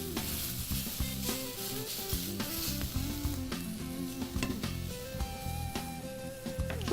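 Mushrooms, onions and chilies sizzle steadily in a hot pan, a continuous close frying hiss with occasional clicks of stirring.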